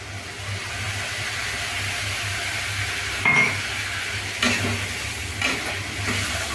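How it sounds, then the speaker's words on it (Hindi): Onion, spices and tomato masala fry in a pan with a soft continuous sizzle, a low background hum, and a few brief clinks and scrapes of stirring. "मसाला भी भूजा करिए, प्याज भी भूजा करिए, और टमाटर भी गल जाए"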